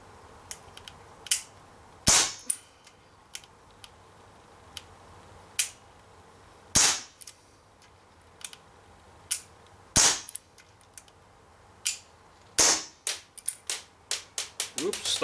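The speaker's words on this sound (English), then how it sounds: "I have a couple more BBs in the magazine, so let me just shoot those out." A TT-33 CO2 gas blowback airsoft pistol shoots 6mm BBs at a can, sending sharp snapping pops at irregular intervals, quickening into a rapid string near the end, with a voice talking softly underneath.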